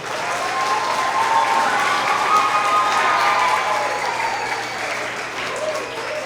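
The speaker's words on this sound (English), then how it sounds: "a big round of applause for all of our kiddos." A large audience at a kindergarten to 2nd grade school award assembly claps steadily and loudly for several seconds, a dense wash of applause that fades slightly toward the end.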